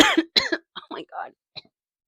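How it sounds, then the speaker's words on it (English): Several short bursts of coughing and throat clearing from a woman, close and loud, tapering off into fainter isolated coughs with silence between them. "I finish my random coughing fit"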